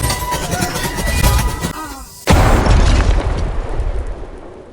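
An explosion during a chaotic shootout at sea: a sudden loud boom cuts in midway over an already busy, rumbling scene and leaves a dense roar trailing after it.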